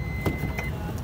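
The electric sliding door of a 2019 Toyota Sienta seven-seater runs with a faint, steady motor whir and a couple of soft clicks, heard close and alone.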